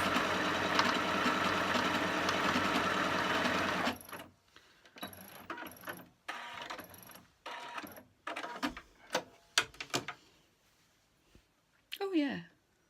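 A Singer 8500Q sewing machine stitches in a steady mechanical whir for a few seconds, then runs in short stop-start bursts of stitches, with a brief voice near the end.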